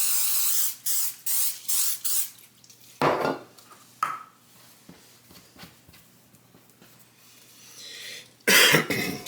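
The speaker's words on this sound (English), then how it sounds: "just got a little bit of non-stick spray" Non-stick cooking spray hisses onto a pan in a short series of quick spurts, followed by a cough and light kitchen clatter.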